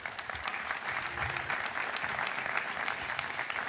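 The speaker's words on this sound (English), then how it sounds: "would you give your parents a nice round of applause?" A commencement crowd at Villanova University applauds graduates' parents, a dense, steady wash of many hands clapping at moderate distance, sustained evenly throughout without pause.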